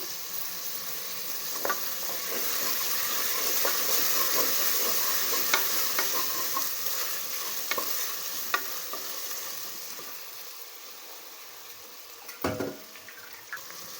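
A spoon stirs vegetable khichdi in a pan with mint, green chilli, curry leaves and coriander mixed in: steady sizzling with repeated close scraping and clattering strokes, and a sharper clank near the end.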